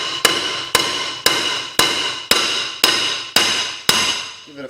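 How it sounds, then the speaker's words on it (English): Eight evenly spaced hammer blows ring out on a rusted rear brake rotor of a Nissan, each a sharp clang with a short ringing decay, loud and close. "you're just going to want to take a hammer"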